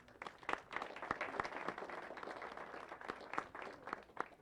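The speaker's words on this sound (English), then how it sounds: "You see his nephew clapping over here" Clapping at a bill-signing event for Black history education in Delaware, faint scattered handclaps from a small gathering over a murmuring room.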